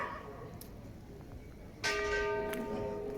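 A church bell named Zygmunt rings out over the market square of Tarnowskie Góry in the evening, a loud sustained tone with ringing overtones that starts about halfway through, over faint outdoor ambience.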